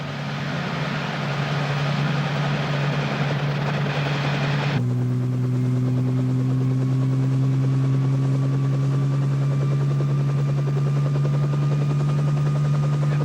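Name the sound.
helicopter landing and hovering above Jim Jim Creek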